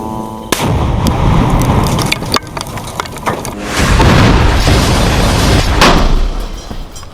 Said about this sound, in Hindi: रॉकेट लॉन्चर से इजरायली बंकर को टारगेट किया गया